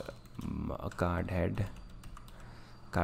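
Code for a Bootstrap card is typed on a computer keyboard, with quick, light key clicks mixed in under a man's continuous speech.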